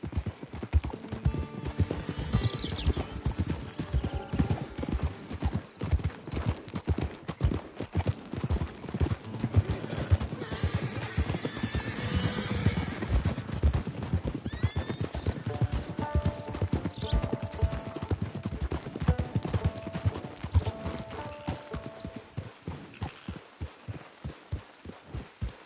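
Horse hooves clip-clopping in a PS4 video game, a steady, brisk rhythm of hoofbeats running continuously, with faint tonal game sounds in the background.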